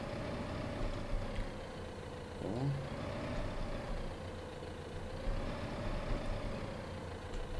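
Tractor engine idling in Landwirtschafts-Simulator 15 during a sale of a wood trailer, giving a steady, moderately loud drone throughout with a single short spoken word partway in.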